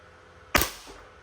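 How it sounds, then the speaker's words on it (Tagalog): An Army Armament R501 Costa Ludus gas blowback airsoft pistol fires one sharp, loud shot up close, a sudden crack with a short fading tail against quiet room tone. "Malakas po sila, malakas po yung putok ng baril."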